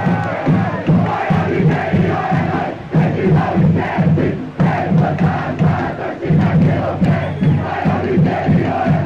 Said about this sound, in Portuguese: Aí os aplausos do torcedor.